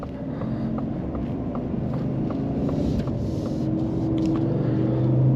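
A 2022 Ford F-150 King Ranch with its 5.0L V8 hums steadily from the cabin while driving, a smooth low rumble that swells slightly under light throttle, with no talk.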